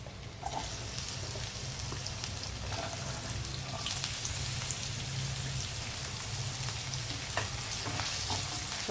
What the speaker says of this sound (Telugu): ఉల్లిపాయలు వేగుతున్నాయి కదా, వేగేటప్పుడే మనం కొంచెం కొద్దిగా దీనికి సరిపడా పసుపు వేద్దాము